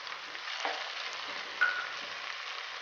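Minced keema fries with spices in a pan, giving a steady soft sizzle with light stirring scrapes, close but quiet throughout.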